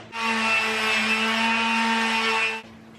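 A power sander works 80-grit sandpaper across the wooden underside of a Sprinter van's platform bed, a steady, loud, even whir that runs nearly three seconds and then cuts off.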